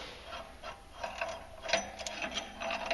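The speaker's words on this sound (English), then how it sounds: "So basically, you got to work this bolt out." A hand ratchet works a clutch bolt loose on a Polaris RZR during a clutch kit install, its quick repeated clicking near and steady in short strokes.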